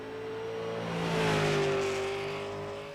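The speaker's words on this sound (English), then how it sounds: "Hopefully the car engines sound good." A Super Late Model race car engine in iRacing on a short track drones steadily, its pitch sliding slightly as it swells louder and then eases off, a passing roar with no voices.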